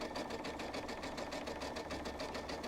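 A sewing machine runs steadily, zigzag stitching along the edge of a robe with a fast, even mechanical whir and rhythmic needle pulsing, close and uninterrupted.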